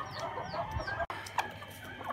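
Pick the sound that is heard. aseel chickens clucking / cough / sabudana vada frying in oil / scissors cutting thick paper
aseel chickens clucking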